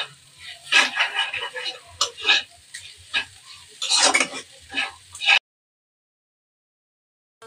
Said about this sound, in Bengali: চিকেন কিমাটা একেবারে হালকা আছে, খুব লো আছে, আস্তে আস্তে ভেজে নিতে হবে।